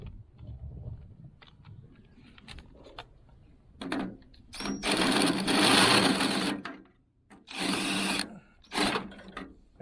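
A 3/4 inch drill bit bores out the brass base of a bulb in a 1970 Cutlass Convertible's lighting, heard as close, harsh bursts of whirring drilling separated by short pauses and small clicks.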